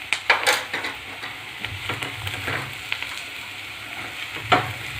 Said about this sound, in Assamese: পিঁয়াজখিনি হালধিখিনি ভালদৰে মিক্স কৰিব, আৰু তাৰ হালধিৰ গোন্ধটো নোযোৱালৈকে ফ্ৰাই কৰিব।